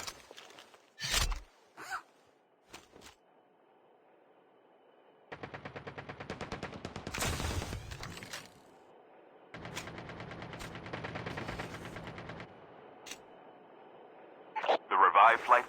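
Bursts of rapid gunfire and sharp single shots in COD Mobile Warzone come and go in spurts, separated by quiet stretches, with a couple of brief electronic effects.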